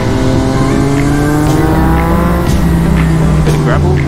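A Yamaha MT-09 motorcycle rides along the Great Ocean Road, its engine a loud, steady, close drone layered with rushing wind noise throughout.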